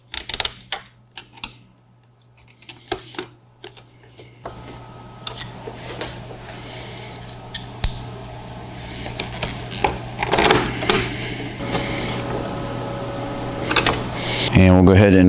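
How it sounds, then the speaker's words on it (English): Screws reinstalled in the back of a Harley-Davidson gauge cluster tray, with close clicks, rattles and small metallic taps of hand tools and parts, building to busier handling at the end, with speech at times. "We're going to go ahead and reinstall the 2 screws here in the back of the tray that hold the bottom of the gauge cluster in."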